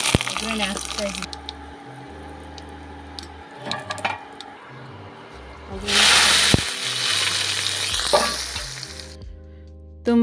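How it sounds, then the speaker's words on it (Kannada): Spice tempering hits hot oil for Kannada-style basale greens with curd gravy: a sudden burst of hissing sizzle rises midway and fades over a few seconds, under a voice and tonal background music. "ಒಗ್ಗರಣೆ ಹಾಕ್ತಾ ಇದ್ದೀನಿ."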